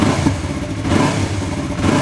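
A Yamaha YZF R3 motorcycle engine runs close by, a loud, steady, slightly throbbing idle with mechanical clatter and no talking.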